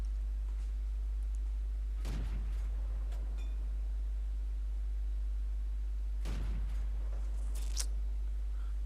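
Two booming tank gun shots in World of Tanks battle play, a few seconds apart over a constant low rumble, each a sharp crack followed by a short rolling decay.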